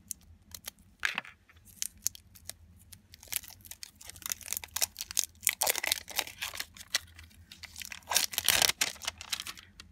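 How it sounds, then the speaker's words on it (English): Crinkling plastic packaging torn and crumpled while unwrapping a candle, in irregular bursts of sharp rustles and crackles close up, with no talking. "of course, unwrap our candle here."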